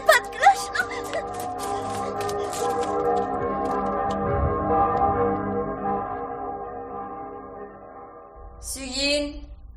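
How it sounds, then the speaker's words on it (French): Church bells ring in a radio drama sound effect, a sustained layered peal with steady tolling tones for most of the clip, ending briefly in a voice. "on sonne les cloches"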